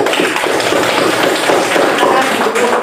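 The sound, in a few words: classroom applause for group 3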